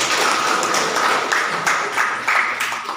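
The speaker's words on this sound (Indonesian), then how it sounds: "Tepuk tangan, tepuk tangan." Students in an Indonesian classroom lesson clapping together, a steady even wash of applause throughout, fairly close and continuous with no talk over it.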